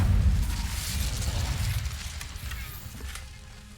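Incendio, the fire spell in Hogwarts Legacy, erupts in a heavy explosive burst: a loud, deep whoosh and rumble that slowly dies away over several seconds, alone without talk.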